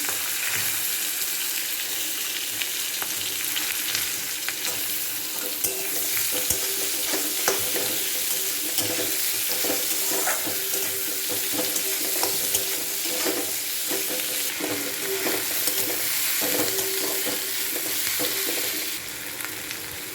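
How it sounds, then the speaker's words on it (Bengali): Onions frying in oil with bay leaf, garam masala, chopped garlic and green chillies, a dense continuous sizzle with occasional stirring scrapes, close and steady throughout with no talk. "এবার পেঁয়াজ দিচ্ছি"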